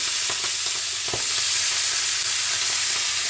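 Shredded cabbage goes into hot oil tempered with sesame seeds for a vegetarian cabbage and tomato sabzi. A loud, steady sizzle and frying hiss carries throughout, with a few close stirring knocks and no talk.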